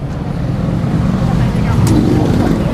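Honda CB750 motorcycle engine starting and settling into a loud, steady, close idle while people talk over it.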